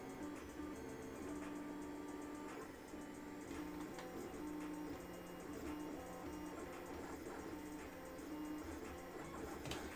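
A 3D printer prints Destiny 2 game parts, giving a steady, continuous mechanical whir with faint stepper-motor tones and small ticking movements throughout, fairly constant in level with no voices.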